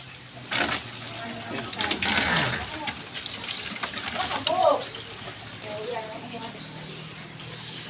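Water gushing from a tap into a container, splashing in bursts beneath nearby speech, with a few clinks and the flow growing fainter toward the end.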